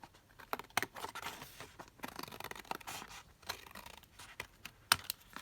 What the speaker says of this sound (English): So I'm just going to cut this down